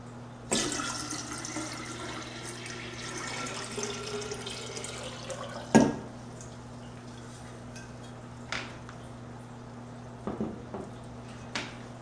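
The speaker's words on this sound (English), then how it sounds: "I add the green water to that culture." Green water poured into a small Daphnia magna culture in a jar indoors, a soft trickle and splash with a few sharper knocks and drips over a steady low hum.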